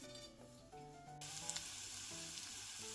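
Chopped onion sizzles and fries in fat rendered from pork fatback with cracklings over very low heat, a close and steady crackle that grows louder partway through, with no talking.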